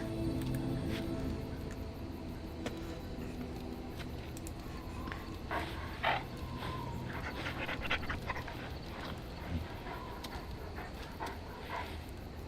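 A puppy in the video game Dragon Age: Origins pants in quick, soft, rhythmic breaths with faint whimpers and small squishy noises, close and quiet, with no talk.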